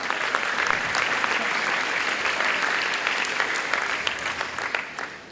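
An audience at a high school graduation farewell ceremony claps for the parents, a sustained burst of dense, lively applause that holds steady and then tapers off toward the end.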